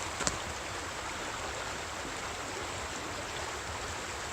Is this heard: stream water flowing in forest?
yes